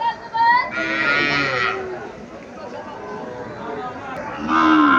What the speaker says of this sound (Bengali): বামা জাতের বাছুর।